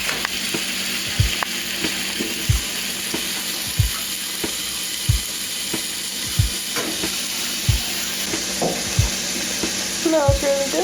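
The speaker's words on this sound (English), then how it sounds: "Let's drop our steak in there. Get that nice sizzle going." Steady loud sizzling of meat frying in a hot pan, with regular clicking knocks repeating about once a second throughout.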